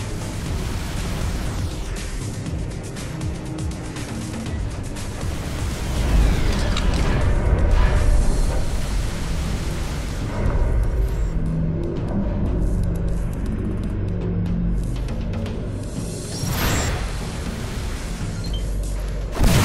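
Space combat in the X Rebirth video game: a dense, continuous wash of rumbling booms, bursts and mechanical weapon fire, loud and sustained throughout with no voices over it.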